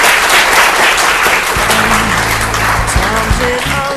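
Audience applause for the CEO of IDIS at a university CEO lecture event, a dense steady clapping roar from a large hall, loud throughout, with a voice and faint tones rising over it toward the end.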